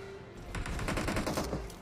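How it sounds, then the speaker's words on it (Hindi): Two shooters open fire from the left in a mobile battle-royale shooter, with dense rapid automatic bursts crackling loud and close in a steady stream for most of the moment. "तभी भाई लेफ्ट से दो बंदे फायरिंग करते हैं"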